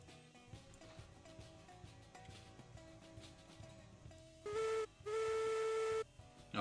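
A new steam locomotive whistle in the video game Railroads Online, two loud sustained blasts, a short one then a longer one, following quieter tonal background music.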